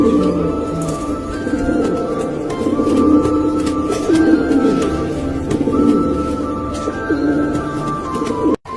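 Pigeons cooing in a loft or coop, a steady low rolling chorus of overlapping coos from several birds, fairly close and continuous, with a few higher chirps and a sudden knock near the end.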